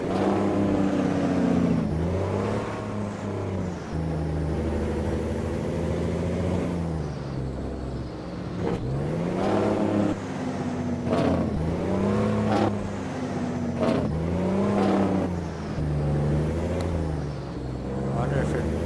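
A Kenworth K100 truck engine in American Truck Simulator revs up and down repeatedly, rising and falling in pitch, with a deep rumbling exhaust tone and brief hisses between gear changes.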